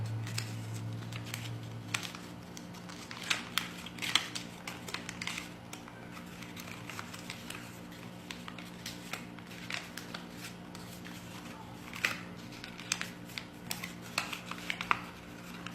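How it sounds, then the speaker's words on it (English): Paper being folded into an origami cootie catcher, faint scattered crinkles and soft creasing taps at close range in a quiet room. "Maybe I should fold it this way."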